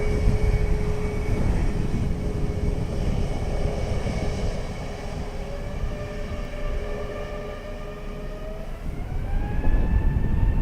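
An airliner rolling for takeoff on runway 10 right at Dublin Airport, a steady loud engine roar with rising turbine whine that climbs in pitch over about ten seconds.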